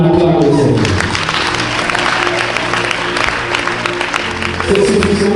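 A wedding congregation at a nuptial blessing claps together in steady, dense applause that fills the room evenly from start to finish, with a sustained musical tone underneath.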